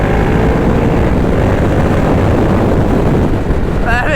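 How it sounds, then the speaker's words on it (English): A Ducati Diavel 1200cc sport bike is ridden at full throttle, giving a loud, steady engine roar blended with heavy wind rush, close and continuous throughout. "Just grabbing a handful of throttle."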